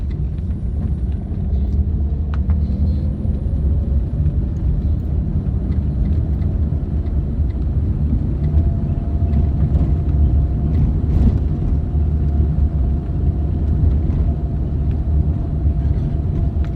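A car driving during a beginner's driving lesson, its engine giving a steady low rumble with road noise, heard from inside the cabin, with a faint rising tone as speed builds.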